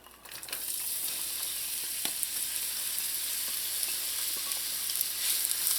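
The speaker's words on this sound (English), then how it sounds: "To the hot oil, you're going to add in some chopped onions" Chopped onions frying in hot oil in a pot, a dense steady sizzle that rises at the start as they hit the oil, with a few small stirring clicks.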